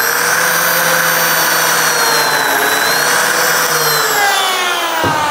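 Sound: Lamello Zeta biscuit joiner plunge cutting a slot

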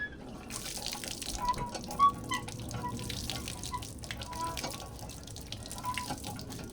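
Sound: water running from a tap

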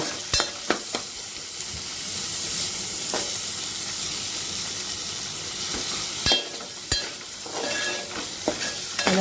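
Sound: onion and tomato being sautéed in a pan

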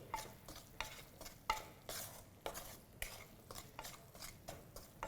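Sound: stirring masala frying in a pan on low flame

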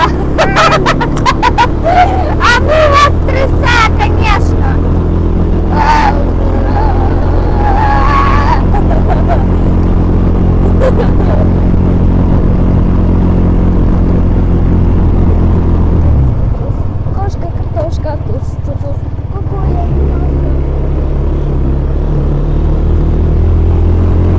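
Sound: quad bike (ATV) engine while riding

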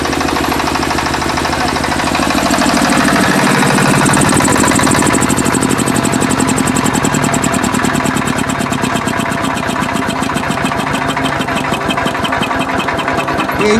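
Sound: 7.5 kW ZGC open generator set engine running

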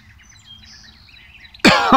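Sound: wild bird chirping outdoors at sunset

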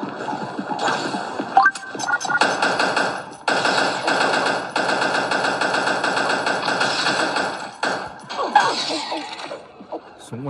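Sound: gunfire from a video game

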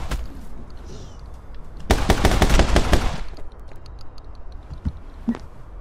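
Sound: gunfire with infinite ammo in the video game My Friend Pedro

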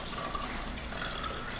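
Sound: water poured over coffee creamer for tiramisu

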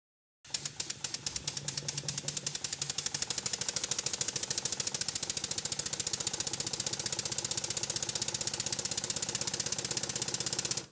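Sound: model steam engine running on compressed air

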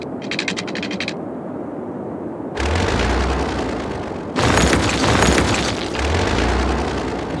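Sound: demolishing roads in Cities: Skylines video game

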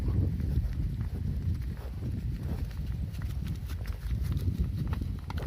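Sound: water buffalo herd walking

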